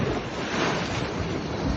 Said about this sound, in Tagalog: lalakas na naman ang alon